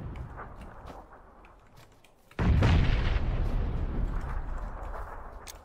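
In a shooting video game, a sudden loud explosion booms in after a stretch of quieter ambient game noise. A deep, rumbling roar follows and slowly decays while staying strong to the end.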